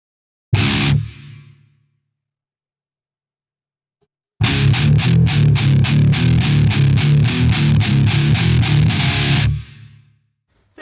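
Electric guitar through a Mooer GE200 on a triple rectifier clean amp model with a Boss Metal Zone distortion: a single loud ringing chord, a pause, then a fast burst of heavily distorted palm-muted chugging that stops abruptly.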